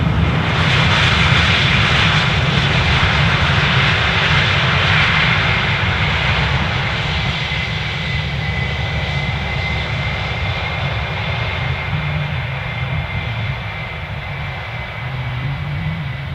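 A British Airways passenger jet at Amsterdam Schiphol Airport gives a loud, steady engine roar, a broad rumble with a high whine that holds throughout and eases off only slightly toward the end, with no talk.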